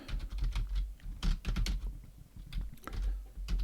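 Computer keyboard typing as a prompt is entered into ChatGPT, a fast uneven run of close, crisp key clicks with brief pauses between bursts.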